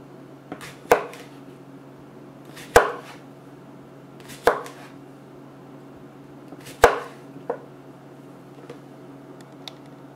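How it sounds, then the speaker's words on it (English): Knife chopping cucumber and tomato slices into small pieces on a cutting board for a salad, heard as about five sharp, separate thwacks spaced irregularly over a steady low hum, with no talking. "so I chop it a little small"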